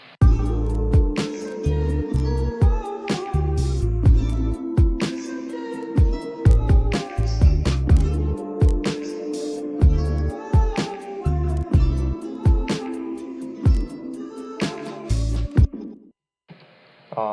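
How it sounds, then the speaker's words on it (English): A simple looping beat plays alone, punchy kicks and snappy hits repeating steadily under a booming bass line and a sampled melody, ending abruptly. "So it's a very simple beat."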